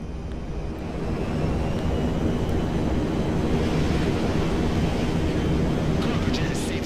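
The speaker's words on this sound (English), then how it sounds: "Cargo jet is safely over the desert." A cargo jet in the video game GTA V roars steadily overhead above the desert, a broad, rumbling engine drone that holds at constant loudness throughout, with a voice speaking faintly beneath it.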